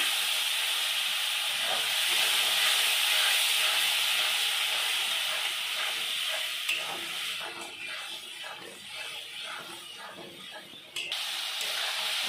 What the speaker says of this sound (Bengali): ভালো করে আমি এটা কষে নেব।